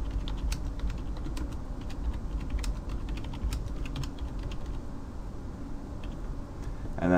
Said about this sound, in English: so let's just type that into this box.